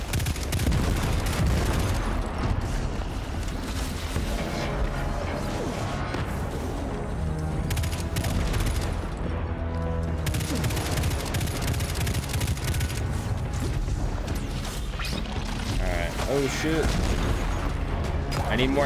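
Rapid gunfire and impacts from a Destiny 2 firefight, dense bursts and crashes sustained throughout at steady loudness, with a voice talking over parts of the action.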